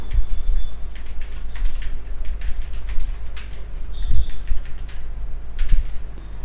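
HTML code is typed on a computer keyboard: a steady run of light, uneven key taps, close by, over a constant low hum and with no talking.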